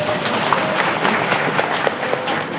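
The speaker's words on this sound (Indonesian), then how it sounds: "Tepuk tangan, Bu." Women in the audience at a Maulid Nabi religious gathering clap together, a dense continuous patter of applause at moderate loudness with faint voices mixed in.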